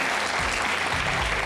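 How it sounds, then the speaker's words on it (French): A French television studio audience applauds the returning guests, a thick, continuous wash of clapping filling the room at steady loudness. "je vous demande de les applaudir maintenant"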